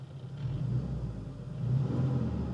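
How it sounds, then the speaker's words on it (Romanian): Big engine of an off-road car revving in Russia, a steady low rumble that swells and eases as the throttle changes, close and alone with no talk. "sună fain, de simți că e un motor mare, vedeți?"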